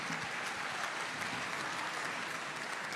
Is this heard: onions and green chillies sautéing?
no